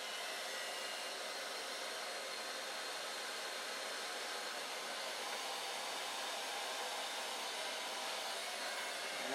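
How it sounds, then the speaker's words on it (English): A heat gun runs as a steady, even broadband blowing hiss, heating and shrinking Polyspan covering on a model aircraft wing, with no talk. "So we're going to take the heat gun and resolve this issue."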